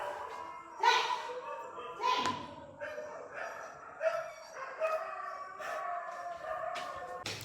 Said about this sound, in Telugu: కుక్కలు అరుస్తున్నాయి.